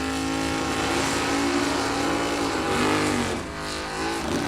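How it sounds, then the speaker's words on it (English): At a drag strip, race cars do burnouts with a loud, sustained, high-revving engine roar that rises and wavers against steady background noise. "I'll wait for the burnouts to get done"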